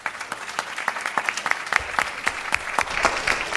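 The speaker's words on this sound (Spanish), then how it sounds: "Un aplauso, por favor." An audience claps steadily, a crowd of hands producing dense, crisp applause that holds throughout and swells slightly toward the end.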